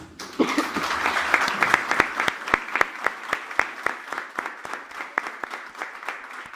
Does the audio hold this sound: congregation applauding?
yes